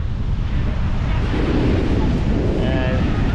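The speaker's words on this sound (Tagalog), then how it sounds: "Lakas ng hangin, nagtatalakas ng hangin." Strong wind roars continuously across the microphone at the Blue Lagoon in Ilocos, loud and buffeting, with faint voices and a brief higher tone near the end.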